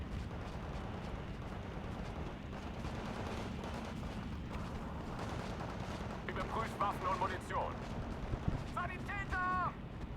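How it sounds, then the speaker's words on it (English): Artillery fire in the Steel Division 2 strategy game sounds as dull, rumbling booms and gunfire layered through dense battle noise, with a voice talking over it near the end. "And now my artillery is trying to deal with these mortars."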